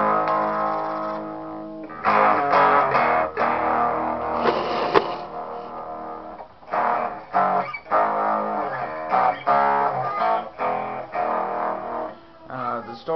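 A homemade Heineken-can guitar amp with gain and volume all the way up: heavily distorted electric guitar played loud with saturated, crunchy chords and bursts of strummed riffs, pausing briefly between phrases.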